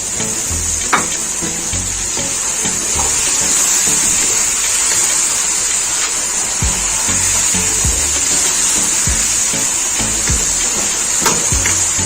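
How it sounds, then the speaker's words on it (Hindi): Water poured into a pot of achari chicken curry, a steady gushing, bubbling sizzle that runs continuously at close range with occasional clinks of the pot or spoon, no voices over it. "थोड़ा सा और पानी शामिल करेंगे।"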